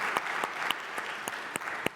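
A conference plenary audience applauds in a steady, continuous round of clapping, with a few sharper individual claps standing out; no talking over it.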